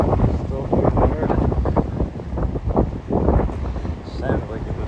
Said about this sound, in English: it sounded really windy